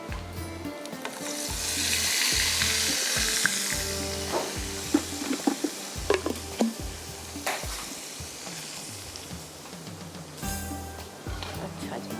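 Masala sizzling and frying in a pan for beef nihari, a steady crackling hiss broken by scraping stirs and clanks of a spoon, with someone talking over it.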